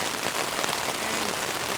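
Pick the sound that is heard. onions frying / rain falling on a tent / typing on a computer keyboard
rain falling on a tent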